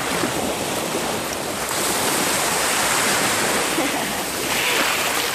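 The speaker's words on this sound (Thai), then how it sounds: "คลื่นแรงสุดๆเลย" Strong sea waves roll and crash on the beach at Koh Samet, Thailand, a dense continuous roar of surf with wind buffeting the microphone.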